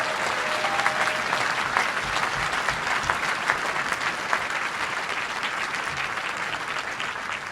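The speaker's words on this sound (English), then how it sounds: "Let's give them a big round of applause." A crowd at an all-city school band concert gives a big round of applause, a dense, even roar of many hands clapping that holds steady for several seconds with no speech over it.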